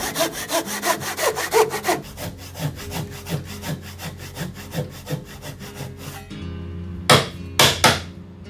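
Hand saw notching a wooden column for a shiki threshold joint in a raised room: fast, steady back-and-forth strokes, close and loud, then a pause and a few sharp knocks near the end.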